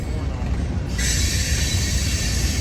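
A Union Pacific manifest freight train rolls past a station in Martinez, California, with loud continuous wheel rumble and a steady high metallic squeal of wheels that rises partway through.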